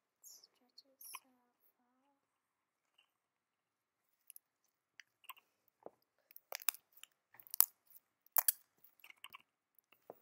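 Fluffy or butter slime being squeezed and stretched by hand gives off scattered crisp crunches and small squishy pops, close and fairly quiet, coming in uneven bursts. A soft voice murmurs near the start.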